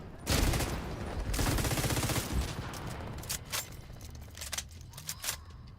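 Rapid automatic turret gunfire in the video game The Division 2, a dense loud burst of shots for the first two seconds, then scattered sharper bangs and distant impacts at lower level.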